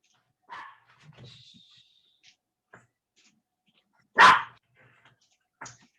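A puppy indoors gives a few scattered barks and yips, one sharp louder bark standing out among fainter whimpering sounds with quiet gaps between.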